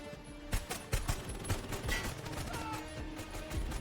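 Gunfire during a firefight in the action film Plane, a rapid burst of irregular shots and muffled impacts mixed under a busy, dense soundtrack, fairly loud and continuous.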